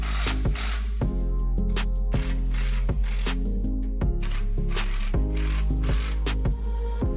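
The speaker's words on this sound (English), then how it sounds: "Now with my impact or a socket, I'm gonna just snug these down." A socket ratchet or impact driver snugs down trailer jack bolts on a boat trailer with a fast, even run of metallic clicks. The clicks are close and steady, and no one speaks.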